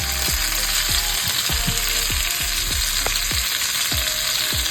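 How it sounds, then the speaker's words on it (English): Jamaican oxtail meat sizzles as it browns in a pot, a steady frying hiss under repeated scraping strokes of a spoon stirring at a regular pace, close and without talk. "so now we've stirred all our meat"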